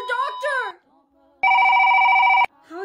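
Unplugged telephone bell ringing in one loud, steady electronic burst of about a second, coming between stretches of speech.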